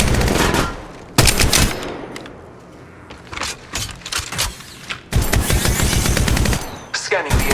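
Rapid bursts of automatic gunfire and single shots crack loudly and close during a squad fight in the mobile game Apex Legends Mobile, with short pauses between volleys and faint voices mixed in.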